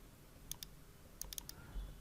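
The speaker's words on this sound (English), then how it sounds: "So let's type it" A few quiet, crisp keystrokes on a computer keyboard while entering a spreadsheet formula: two isolated clicks, then a quick cluster of three or four, faint over a low room hum.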